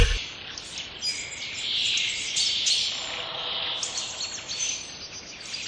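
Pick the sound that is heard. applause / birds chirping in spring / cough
birds chirping in spring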